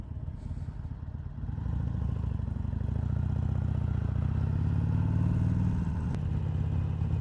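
Harley-Davidson Sportster XL1200CX Roadster, a 2020 1200 model, accelerating on the road, with a steady, loud engine drone that swells gradually over several seconds and no one talking.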